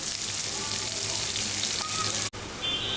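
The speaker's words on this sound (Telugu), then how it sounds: "ఒక రెండు నిమిషాల పాటు ఉల్లిపాయలను ఫ్రై చేసుకోవాలి" Onions frying in a pan for an aloo palak (potato and spinach) curry, giving a steady, close, loud sizzle that runs throughout with a brief dropout near the end, with no talking.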